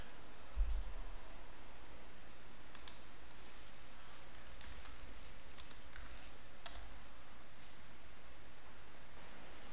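Typing on a computer keyboard, with a few soft clustered keystrokes and clicks spread over a steady faint hiss, quiet and close.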